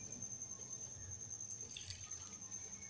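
Water trickles and splashes into gram flour batter for kadhi pakora, a faint, steady pour close by under a quiet high hum, with no talking.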